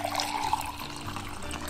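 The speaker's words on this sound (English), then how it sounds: "Now I'm gonna take some water and I'm gonna put it in the cup." Water poured into a cup during a household life-hack test, a steady close splashing pour lasting about two seconds with no talking.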